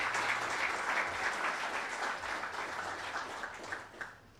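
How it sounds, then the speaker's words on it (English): Applause for newly seated city commissioners at a State of the City event, a sustained, even patter of many hands that is fairly faint and distant and tapers off toward the end. "Let's give them a round of applause."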